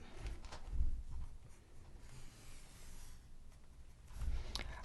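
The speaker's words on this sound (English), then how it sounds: "Let's draw the frame." A pen draws a frame around a sketch on paper, soft scratchy strokes coming in short close bursts with quiet pauses between them.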